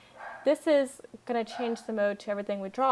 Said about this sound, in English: I'm sorry about my dog. There must be someone outside and it's bothering him.